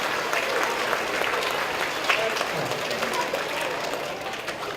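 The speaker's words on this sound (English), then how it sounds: "you should give yourselves a round of applause" Parents and families in the audience applaud at a school spring concert, a steady wash of clapping held at an even level for several seconds with a few sharper claps standing out.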